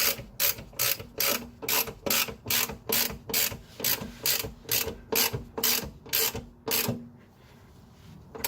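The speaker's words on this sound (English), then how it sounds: "now we're going to tighten up the diff bushing. It's going to be a 19 millimeter on both sides." A ratchet tightening a 19 mm differential bushing bolt on a BMW E30, with a long run of evenly spaced, loud mechanical clicking strokes that stop near the end.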